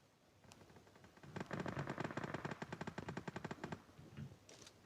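Rapid automatic gunfire from a video-game shooter match against bots fires in a steady burst of about two and a half seconds, a fast, even rattle of sharp shots that is fairly faint overall, with no talking.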